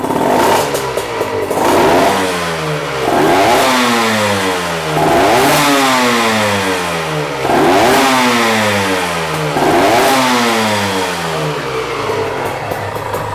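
A Honda NSR 125 JC22 motorcycle engine is revved repeatedly, about six sharp rising two-stroke wails falling back between blips, loud and close, with no speech.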